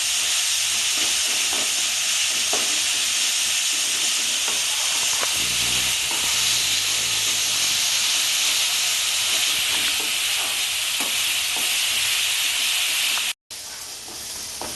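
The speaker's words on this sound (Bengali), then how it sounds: "মশলাটা যত সুন্দর ভাজা ভাজা হবে আমার মশলাটা খেতে তত সুন্দর হবে" Spice paste fries in a pan for a Bengali-style raw jackfruit curry, giving a steady, close sizzle and hiss that cuts out briefly near the end.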